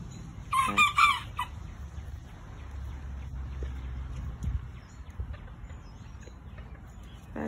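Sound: chickens clucking and rooster crowing

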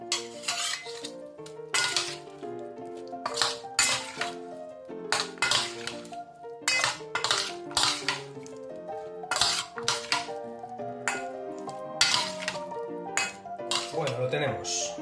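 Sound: stirring shrimp salad with lemon juice in a bowl

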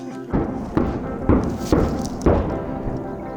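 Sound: distant gunfire

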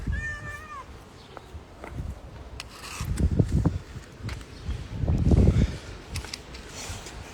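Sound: cat meowing

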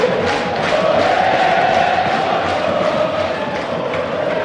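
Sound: Palmeiras football fans shouting and cheering in stadium

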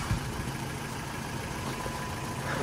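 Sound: Ford Focus 1.6 mk3 engine idling while warming up

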